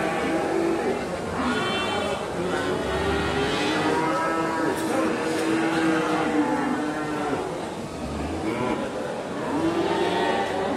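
Holstein Friesian (FH) and crossbred pegon cows at Wonolelo livestock market in Wonosobo, Indonesia, lowing in long, loud moos amid a busy crowd of talking voices and market bustle.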